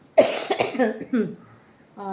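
A woman coughs a few times in rough, breathy bursts at close range, followed by a brief voiced sound at the end.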